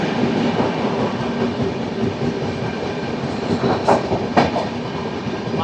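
The Secunderabad AC Superfast Express runs past a station at speed, a loud continuous rumbling roar with rhythmic wheel clatter and two brief high squeals near the end.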